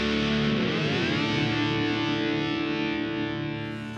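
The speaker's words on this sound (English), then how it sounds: "A tape delay machine that uses 8-track tapes for its delay sound." Vintage 1970s tape delay machine that uses 8-track tapes, giving a thick distorted echoing tone whose pitch sweeps and smears before slowly fading near the end, alone with no talking.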